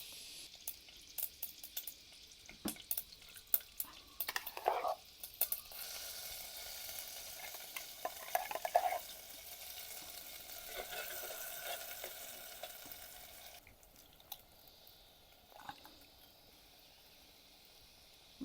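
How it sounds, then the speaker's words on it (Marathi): Tempering (phodni) for raw mango curry sizzling in a pan, a quiet crackling hiss with occasional sharper pops and stirring scrapes, fading down toward the end. "आता आपण फोडणी करून घेऊया."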